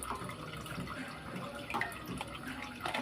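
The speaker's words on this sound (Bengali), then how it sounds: "গামলিতে জল দিয়েছি" Water is poured into a bowl while cooking hilsa fish biryani, a continuous close splashing and trickling with brief drips, moderately quiet.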